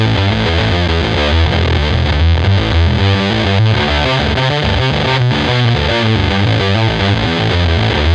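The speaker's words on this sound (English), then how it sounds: "You can pitch your guitar signal up an octave or two, or if you're feeling adventurous, you can pitch it down as well." Distorted electric guitar run through a Digitech Whammy pedal, its signal pitch-shifted by octaves, a loud, dense, continuous riff with no talking.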